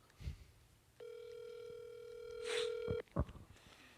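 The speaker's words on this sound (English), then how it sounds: "Hold on, let me call a friend." A steady electronic telephone tone sounds for about two seconds while a call is placed, with a few faint thumps and handling noises around it.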